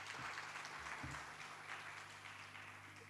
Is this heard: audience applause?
yes